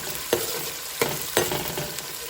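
Onions frying in a hot tempering for a curry of ridge gourd and chana dal, a close steady sizzle broken by three sharp scraping stirs.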